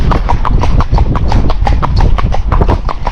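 Hooves of a gaited Kentucky Mountain Horse doing a hoppy canter step beat out a loud, close, steady, rapid clip-clop rhythm throughout.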